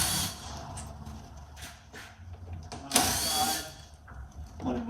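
A power drill drives screws while a fan module is replaced on a Ram Promaster van, giving several short, close whirring bursts separated by brief pauses.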